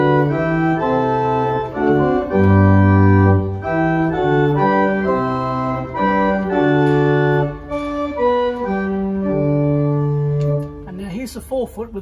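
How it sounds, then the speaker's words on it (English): The Willis pipe organ at St John the Evangelist plays with its 4 foot principal stop added, giving sustained chords and moving notes in a reverberant church before the sound stops and a voice begins at the end. "I'm going to leave the number 2 out and I'm going to add the 4 foot principle"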